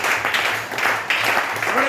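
A church congregation applauding to acclaim the Lord, a dense, steady wash of clapping with voices mixed in throughout.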